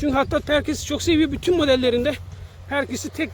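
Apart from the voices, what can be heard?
None of the usual background noises is heard.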